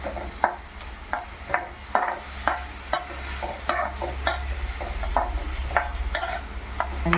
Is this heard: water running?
no